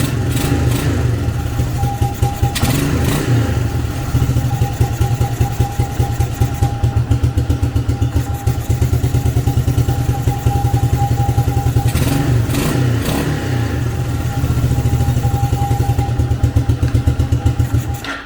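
Engine of a 1987 Suzuki LT300E ATV running loud and close with a steady throbbing idle, revving up in a few swells and settling back.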